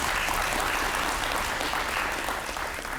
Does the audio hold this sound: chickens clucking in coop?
no